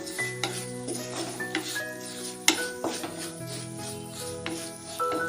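Crushed chilli frying in a pan with garlic, ginger and green chilli, with a soft sizzle beneath scattered clinks and scrapes of a spoon stirring against the pan, close and without talking.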